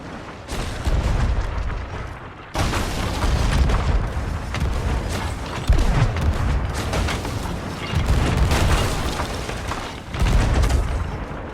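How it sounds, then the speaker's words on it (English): Heavy booming blasts of cannon fire in a video game naval battle repeat every few seconds, loud and rumbling, amid continuous battle noise. "I know I was firing cannon for everything."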